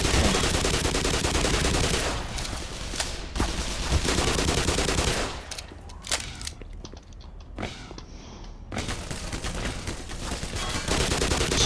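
Soldiers fire MP5 submachine guns in the video game Black Mesa, with loud, dense bursts of automatic gunfire that run almost without a break, ease slightly midway, then swell again.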